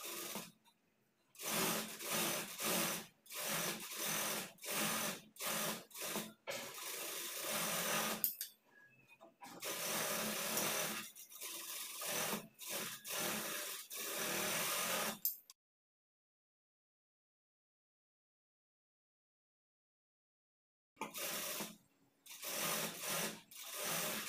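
Sewing machine stitching a blouse sleeve onto the shoulder with a half-inch seam, close and loud in a series of rapid bursts and stops, then a long silent gap before stitching resumes.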